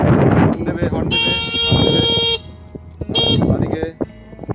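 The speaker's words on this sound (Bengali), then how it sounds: "হর্ন দেবে" A car horn sounds on an old car during a driving trip, two bright sustained honks, the first long and the second shorter, sharing the clip with loud talking before and after.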